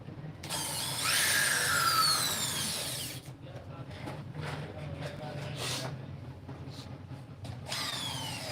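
A power drill runs loudly for a few seconds during mechanical work, a whining buzz that then gives way to clattering tool handling and a voice talking, with a brief whir returning at the end.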